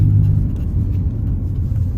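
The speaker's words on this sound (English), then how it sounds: "I just took out the mufflers, and that's just stock exhaust system." Deep, loud rumbling of a BMW 630i E64 convertible's stock exhaust with mufflers removed, idling with a rough, throaty low-frequency throb, close up and continuous.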